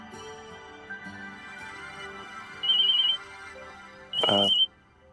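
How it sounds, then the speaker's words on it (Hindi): A phone ringing late at night, heard as two short electronic ringtone bursts a second apart over faint background music. "इतनी रात को किसका फोन है?"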